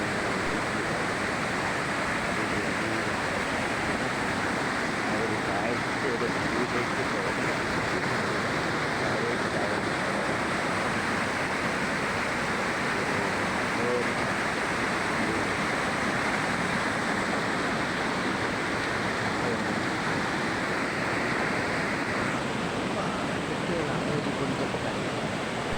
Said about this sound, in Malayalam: ഈ കാണുന്ന സ്ഥലത്താണ് മുകളിൽ നിന്നും വെള്ളം ഒഴുകി വന്ന് ആ വെള്ളം ഇവിടെയാണ്